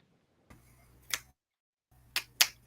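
After a poem at a cypher circle, a few close, crisp finger snaps ring out in two short bursts, one snap, a pause, then two or three more in quick succession, in an otherwise quiet room.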